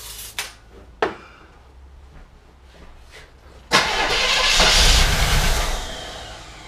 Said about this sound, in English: it's starting on starting fluid